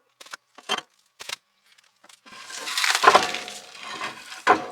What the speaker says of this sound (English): first of all, I'll remove the fire bricks and the linings